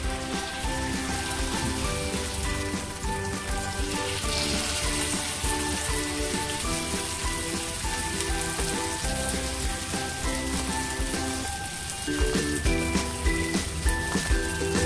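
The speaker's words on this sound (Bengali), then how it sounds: "তেল গরম হয়ে গেছে। এবার বড়াগুলো আস্তে আস্তে ভেজে নেব" Jute leaf fritters (patpata bora) fry in hot oil, giving a dense, steady sizzle and crackle that holds throughout, with a faint background hum.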